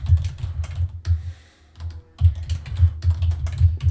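Rapid keystrokes on a computer keyboard as a network command is entered into a command-line shell, close and fairly loud, with a brief pause midway before the clatter resumes.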